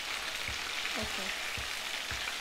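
Prawns frying in a pan, a soft steady sizzle with faint pops and a few light low taps from stirring or turning, quiet and close.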